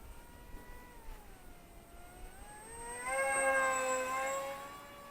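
A Zeta Z84 RC plane flies overhead in the open air, its electric motor giving a thin whine that shifts in pitch as it passes, growing louder and nearer toward the end.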